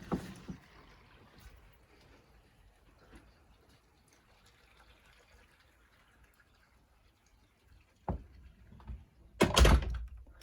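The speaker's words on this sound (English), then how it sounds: "And I'll pull the door closed." A heavy hollow metal door swings shut under a polished nickel door closer, with a soft thump near the start, then a sharp latch click and a louder, brief slam at the end, each close and otherwise quiet.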